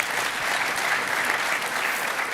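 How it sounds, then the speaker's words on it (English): An audience claps for four panel speakers at the end of a discussion at the IGF inaugural session, a dense, even wash of applause filling the room without a break. "just want to give the four of them a big round of applause again"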